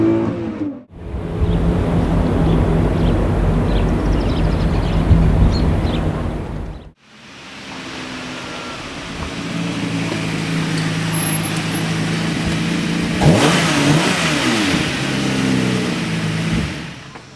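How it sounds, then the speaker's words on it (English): A Lamborghini Murcielago's Italian engine roars through hard throttle runs, loud and close, with a pause between bursts and rising, shifting revs as it accelerates. "If you want to really rev it up, obviously you get that symphonic Italian noise."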